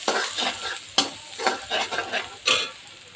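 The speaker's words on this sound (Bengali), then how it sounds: "একটু পেঁয়াজ বেশি বেরেস্তা করে নেব।" Sliced onions frying in oil to make birista, heard as a crackling sizzle broken by several rhythmic stirring scrapes, about one every half second, close and clear with no talking.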